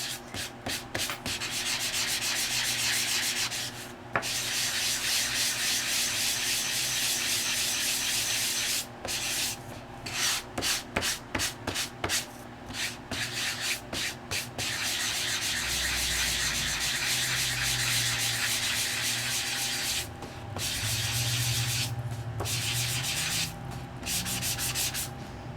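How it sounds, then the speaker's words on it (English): Steady abrasive rasping of sanding, continuous and close, with brief pauses between strokes and a low hum underneath. "I have to go back and I have to sand again."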